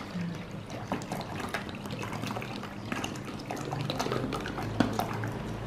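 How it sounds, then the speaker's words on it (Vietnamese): Cooled boiled water pours from a bottle into vinegar in a bowl, a faint, steady trickle with scattered small splashes and drips throughout. "mình sẽ pha với lại một chai nước đun sôi mình để nguội này các bạn ha"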